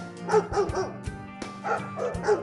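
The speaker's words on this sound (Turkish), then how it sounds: "Köpek" A dog barks and yips repeatedly in quick, uneven bursts, close and fairly loud, with a few whiny higher yelps mixed in.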